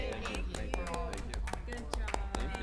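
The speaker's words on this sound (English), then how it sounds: "I didn't expect to get applause" Scattered applause from a small audience at a city arts and culture commission meeting, with individual claps sharp and distinct, joined by voices talking.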